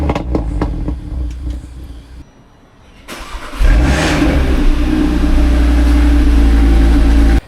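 A high-mileage Audi RS3 with a DSG gearbox runs loud and close, a brief lull dropping into a sustained heavy engine roar that holds steady for several seconds.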